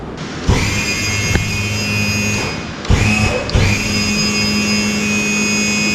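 A steady electric whine from the trim motor on a pontoon tri-toon boat runs continuously at close range, broken by a few sharp clunks and shifts in pitch as the motor starts and stops.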